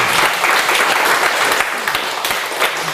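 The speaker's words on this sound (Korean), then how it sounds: "생각해보니까 박수 칠 일이요?" A church congregation claps together during a revival prayer service, a dense, loud burst of applause filling the room steadily throughout.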